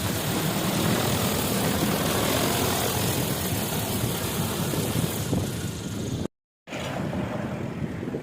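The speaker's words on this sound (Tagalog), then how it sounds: "bababa na po yung ating drone" An agricultural drone descends over a rice field after spreading seed, its propellers roaring loud and steady, with a brief cut-out near the end before the noise resumes.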